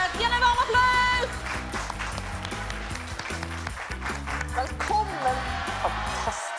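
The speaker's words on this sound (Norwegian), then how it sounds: "Gi henne en varm applaus!" Studio audience applause welcoming a guest onto a Norwegian talk show, a steady wash of clapping running under loud, bass-heavy band music for the whole stretch.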